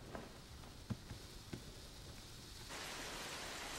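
Steady rain hiss with a few soft low rumbles, then the downpour swells louder near the end; no voices.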